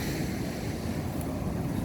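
Strong ocean waves break at Myeongpa beach in a steady, dense roar that fills the whole stretch, with wind buffeting the microphone throughout.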